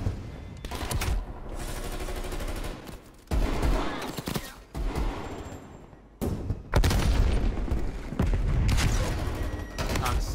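Bursts of rapid gunfire from a video game, using pistols, fire in dense volleys separated by brief pauses, loud and close, with faint talk in the background.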